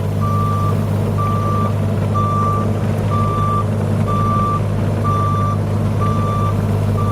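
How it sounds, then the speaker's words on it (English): A mini excavator tilting its bucket while moving large logs, its engine droning loud and steady under a regular, repeating electronic beep alarm. "I'm gonna tilt it back forward a little bit to throw the weight back in the bucket instead of towards the front of the bucket."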